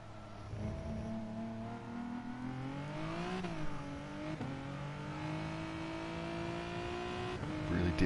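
Race car engine in the GT Sport video game, revving and shifting continuously with rising and falling pitch, loud and close throughout with no talk.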